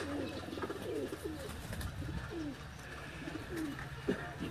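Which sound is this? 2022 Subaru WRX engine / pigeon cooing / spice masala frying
pigeon cooing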